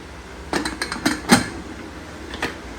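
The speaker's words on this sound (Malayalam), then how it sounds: "കുക്കർ അടയ്ക്കാൻ പോവാണ്" Metal clatter of a pressure cooker lid being set and closed in a home kitchen, a handful of sharp clinks and knocks in quick succession with a final tap, close and fairly loud, no talking.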